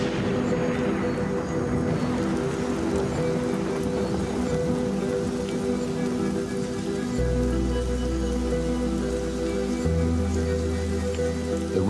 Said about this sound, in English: The rain is a welcome relief, but Mike is struggling to collect it.